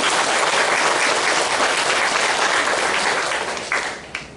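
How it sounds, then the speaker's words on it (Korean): A church congregation applauds a newly married couple with dense, sustained clapping that fills the space and tapers slightly near the end. "박수를 보내주시기 바랍니다."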